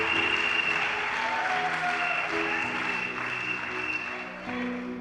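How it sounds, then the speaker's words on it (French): A church congregation applauds during a sermon, a continuous moderate wash of clapping with sustained tones from music or voices running beneath it. "Acclamons le Seigneur."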